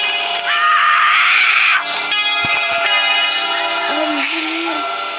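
Characters scream in the Hello Neighbor video game, with a loud, high shriek in the first half followed by tonal in-game sounds, clicks and a lower wavering cry near the end.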